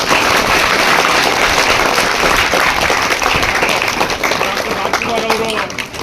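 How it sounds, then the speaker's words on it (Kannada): An audience at a public gathering claps in sustained applause, a dense, even wash of many hands that holds steady throughout and eases slightly near the end, loud and close. "ನಾವೆಲ್ಲ ಮತ್ತೊಮ್ಮೆ ಸಾಹೇಬರಿಗೆ ಚಪ್ಪಾಳೆ ಹೊಡೆದ ಮುಖಾಂತರ"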